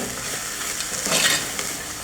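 Grated coconut is stirred into sundal in a pan, a soft scraping of the spoon over a light sizzle, steady and close with a brief louder swipe midway.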